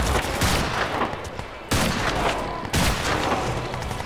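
Revolver fire from the Crysis 2 video game: loud, dense gunfire with two sharp, heavy shots cutting in about a second apart over a constant roar of battle.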